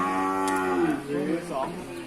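Cattle at a Thai livestock auction mooing in long, drawn-out calls that overlap one another, fairly close and loud against a steady background of other animals.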